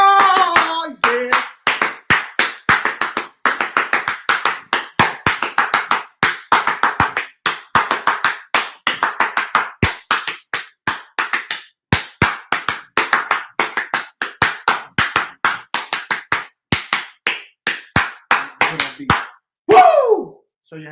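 One person claps alone, close and loud, in a steady rapid rhythm that runs for about twenty seconds. Brief voices come in at the start and near the end.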